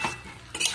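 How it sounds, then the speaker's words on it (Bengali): A spatula stirs cooked Malabar spinach with pumpkin in a pan, two short scraping strokes against metal, near and fairly quiet, with no talking. "একটু নেড়ে চেড়ে নিলাম"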